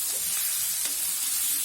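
Okra masala frying in oil, a dense continuous hiss close to the pan with a faint stir near the middle.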